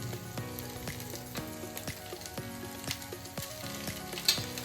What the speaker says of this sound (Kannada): ರೈಸ್ನ ನಾನು ಇವಾಗ 2 ಆಗುವಷ್ಟು ಹಾಕ್ತಾ ಇದ್ದೀನಿ